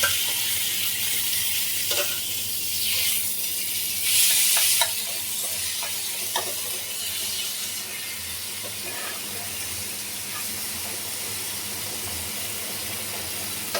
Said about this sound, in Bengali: পেঁয়াজ, রসুন, কাঁচা লঙ্কা ভাজা হয়ে গেছে, এবারে শাকটা ছেড়ে দিচ্ছি।